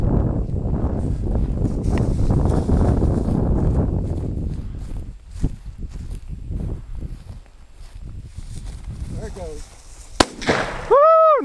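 A single sharp gunshot rings out during an outdoor quail hunt, a loud broadband crack near the end, following a stretch of rustling movement through brush and people talking.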